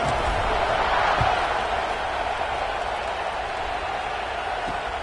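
A football stadium crowd roaring before a kickoff, just after a touchdown drive: a broad, sustained wash of cheering that is heard at a distance and eases slightly over a few seconds, with a commentator's voice faintly beneath it.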